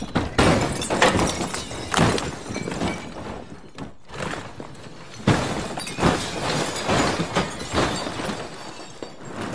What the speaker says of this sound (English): we loaded it up with crockery and things that can smash